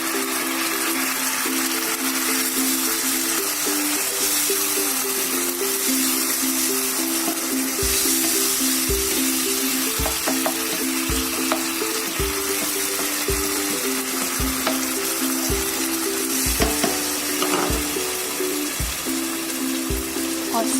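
Tomatoes and onion sizzle together in a pan, a steady broadband frying hiss running throughout with soft clicks and taps from stirring, no talk over it.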